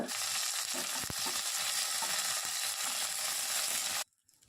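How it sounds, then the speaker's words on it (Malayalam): Dense, steady crackling and sizzling of mustard seeds spluttering in hot oil, loud and close, cutting off abruptly near the end. "ബാക്കി വന്ന എണ്ണയിലേക്ക് കാൽ ടീസ്പൂൺ അളവിൽ കടുകിട്ട് പൊട്ടിക്കുക"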